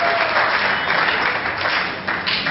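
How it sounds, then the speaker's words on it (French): Wedding guests applaud the bride, a steady, dense burst of clapping from a crowd that fills the room for a couple of seconds with no talk over it. "Applaudissez pour elle s'il vous plaît."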